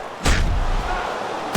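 A heavy punch lands in the Fight Night Champion boxing video game, one sudden loud thud followed by a sustained rumbling crowd swell, then another impact starting at the very end.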